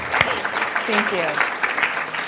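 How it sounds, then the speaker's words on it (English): An audience at a healthcare software innovation panel gives a short round of applause while a speaker's voice cuts in over the clapping. "That deserves a little round of applause."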